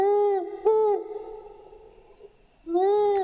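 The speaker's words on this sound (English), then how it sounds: "We use megaphones, which brought an MP3 player to broadcast the calls of the owls." Three recorded owl calls played through a megaphone, each a tonal, slightly wavering hoot with a harsh, amplified quality, separated by a longer gap before the last one.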